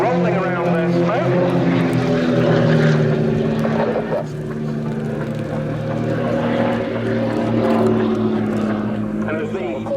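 An Extra EA300L aerobatic propeller plane flies at the Royal International Air Tattoo air show, giving a loud, steady engine and propeller drone whose pitch slowly rises and falls as it manoeuvres.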